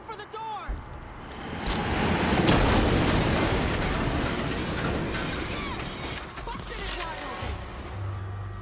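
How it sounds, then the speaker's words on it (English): A train in the zombie shooter World War Z thunders loudly down a New York tunnel toward a door, a sustained rumbling roar with screeching wheels that swells and then steadies, with voices speaking over it. "The train's heading for the door!"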